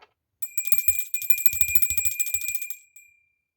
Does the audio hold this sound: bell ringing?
yes